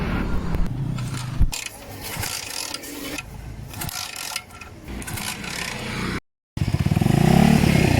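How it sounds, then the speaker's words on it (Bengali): A motorcycle engine runs without a battery after a new armature was fitted, giving a steady, close mechanical rumble and rattle with a brief cutout near the end before it resumes. "তো আমরা স্টার্ট দিয়েছি ব্যাটারি ছাড়াই"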